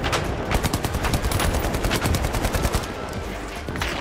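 Rapid automatic gunfire in the shooter game The Finals, a dense stream of loud, close shots lasting nearly the whole stretch and easing off at the end, with no talk over it.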